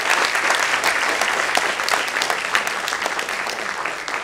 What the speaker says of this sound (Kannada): ಜೋರಾದ ಚಪ್ಪಾಳೆ ಬರಲಿ ಶಶಾಂಕ್ಗೆ.